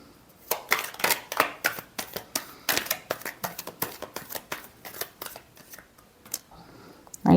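Tarot cards shuffled by hand, a steady run of crisp riffling flicks and slaps repeating close up for several seconds.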